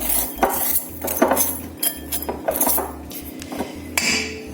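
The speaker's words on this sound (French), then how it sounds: "Je mets les œufs et puis je vais mettre le sucre que je vais faire bien battre jusqu'à ce que ça va blanchir" Eggs and sugar are whisked in a bowl for a chocolate cake, giving rapid, irregular metallic clinks and scrapes of a utensil against the bowl, fairly loud and close, with no talking.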